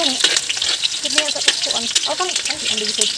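Pancit noodles stir-fried in a pan sizzle and scrape continuously and loudly up close, with faint voices in the background.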